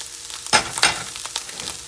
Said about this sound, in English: I'm going to stir it one more time.